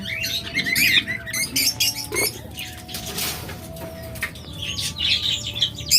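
A pet bird flutters and scrabbles inside a nest box, giving bursts of wing flapping and scratching mixed with thin chirps, close and uneven in rhythm, with no voices.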